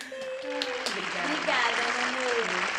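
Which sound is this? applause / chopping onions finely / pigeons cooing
applause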